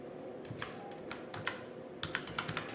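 Keys clatter on a computer keyboard as a name is typed into a Blender 3D modeling program, a string of light clicks ending in a firmer press of the Enter key, close and clear with no voices.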